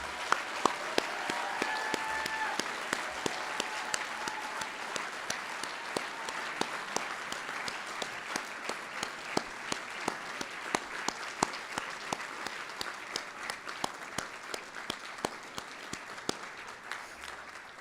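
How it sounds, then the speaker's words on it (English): A hall full of people gives a long, hearty round of applause for a graduating law class at a Regent Law commissioning ceremony, steady dense clapping with distinct sharp claps sounding throughout and easing slightly toward the end. "Let's give them one more very hearty round of applause."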